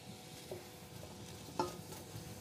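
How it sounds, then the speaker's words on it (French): Onions sizzle softly in hot oil for a nettle soup, a faint steady crackle broken by a few sharper pops and clinks of a utensil. "Voilà, qui commencent déjà à grésiller."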